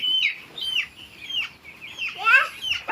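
Chickens cluck in a poultry farm shed, with several short, bright calls overlapping at close range. A burst of louder, more excited clucking rises near the end, with no talk.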